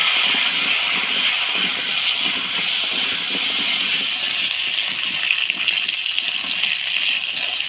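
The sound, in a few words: potatoes frying with a little turmeric and salt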